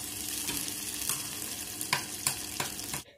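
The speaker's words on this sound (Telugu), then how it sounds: "గ్రీన్ చిల్లీస్ 1 టేబుల్ స్పూన్ వేసి కొంచెం ఫ్రై చేయాలి లైట్గా" Green chillies fry lightly in a pan for chaat, a soft, steady sizzle with a few sharp spatula taps, ending abruptly; no talking.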